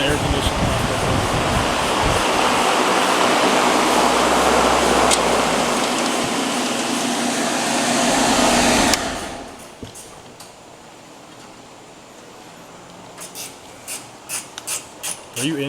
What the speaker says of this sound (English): Hold on, let me turn the air conditioner on.